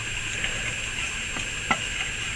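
Pepper being stirred into a pot of French onion soup, with a steady sizzling hiss broken by a few soft spoon clicks and one sharper scrape, up close.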